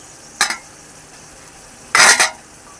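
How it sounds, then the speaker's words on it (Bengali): A metal pot lid is lifted from a pot of duck meat curry, then the curry is stirred. Two short clattering scrapes of metal on metal come about a second and a half apart, close by, with no talk over them. "ঢাকনাটা তুলে একটু নেড়ে দিই।"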